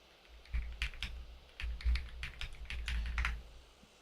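Quiet, close clicking of keys on a computer keyboard in bursts of rapid taps separated by short pauses, with no talking.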